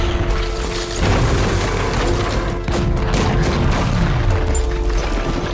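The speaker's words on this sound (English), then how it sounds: "The tanks began bombarding the building." Tank shelling in a war film: a continuous heavy rumble of booming explosions and crashing blasts, loud and dense throughout with repeated impacts and mechanical clatter, no speech.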